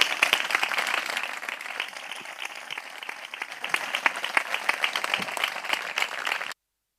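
Audience applause for business owners at the Premio Empresa Teruel 2021 awards ceremony in Teruel, a dense, steady round of clapping from a crowd that lasts about six and a half seconds, then stops abruptly.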